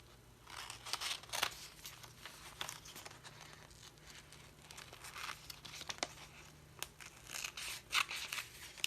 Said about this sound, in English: Let me just cut it out.